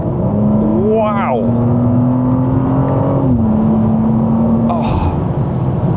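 A BMW M2 engine pulls hard with a smooth rising whine, then dips briefly through a quick, seamless gear change before carrying on. Someone speaks over it with an awed exclamation.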